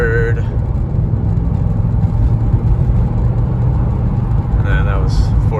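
A Mercedes C43 AMG being driven, its engine and road noise a steady loud rumble inside the cabin through the shift from fourth to fifth gear, with a brief voice near the end.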